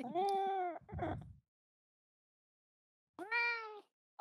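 A cat gives two drawn-out, whiny meows separated by a long silence, with a short rougher sound after the first and the start of another call at the end, near and clear.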